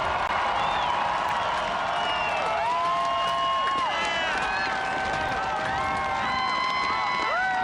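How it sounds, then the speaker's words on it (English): An immense outdoor crowd on the west front of the US Capitol cheers and applauds continuously after Barack Obama's 2009 inaugural address, a dense roar threaded with whistles and shouts that never lets up. "The immense crowd salutes and applauds the 44th President, Barack Obama, after that inaugural address on the west front of the Capitol"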